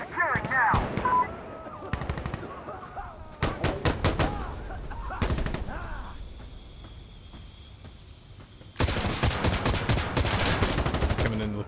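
Gunfire in Insurgency: Sandstorm comes in several loud, sharp bursts of rapid shots separated by brief quieter gaps, with a long sustained burst near the end.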